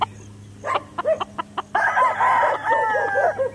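A Golden Boy Sweater gamefowl rooster crows loudly and close at a gamefarm in Calaca, Batangas, with a few sharp clucks before one long, wavering crow.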